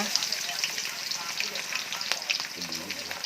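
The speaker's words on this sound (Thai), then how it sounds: "ใส่หมูบดใส่ผักกาด ผัดผักนะคะ วันนี้เราผัดผัก" Minced pork, cabbage and glass noodles stir-frying in a pan, a steady loud sizzle with scraping stir strokes throughout and a brief voice near the end.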